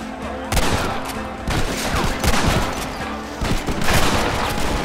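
Gunfire from a shootout with the army in the video game Red Dead Redemption on Xbox One. Bursts of rapid shots and heavy booms crackle loudly and densely throughout, with barely any pause.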